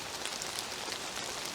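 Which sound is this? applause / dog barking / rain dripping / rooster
rain dripping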